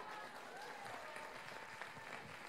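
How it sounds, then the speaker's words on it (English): Guests at a wedding reception clap in a steady, fairly faint round of applause with faint crowd murmur underneath, heard from a distance. "Now this needs a round of applause."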